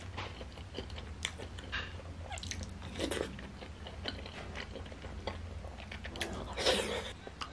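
Soft, close chewing and biting on shepherd's purse and pork dumplings, with irregular moist crunches and mouth sounds over several seconds and a slightly louder bite near the end.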